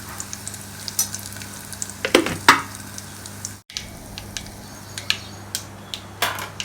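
Curry leaves hit hot oil for a sambar tempering, giving a soft sizzle broken by a run of sharp crackles and pops, loudest in quick bursts before settling into scattered spits.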